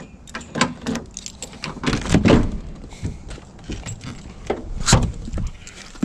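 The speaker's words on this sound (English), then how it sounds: "Open the door." A car door opening after the battery's negative terminal is hooked up in the trunk: several clunks, latch clicks and rustles close by, with a sharp knock near the end, and no talk.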